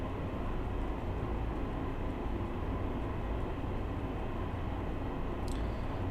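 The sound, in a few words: Long Island Rail Road train coasting, Train Sim World video game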